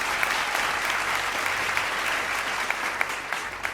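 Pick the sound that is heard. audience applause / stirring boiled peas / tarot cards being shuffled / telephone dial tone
audience applause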